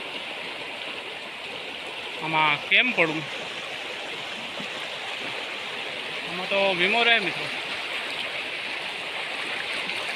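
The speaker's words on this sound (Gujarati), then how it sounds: "પાણીનો અવાજ પણ આવતો હોય છે તમને" Floodwater after heavy rain rushes past as a steady, loud stream roar filling the whole clip, while someone speaks briefly twice over it.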